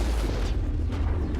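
A cannon fires in the sci-fi shooter Mass Effect 1, a deep booming blast with a low rumbling tail that fills the short moment.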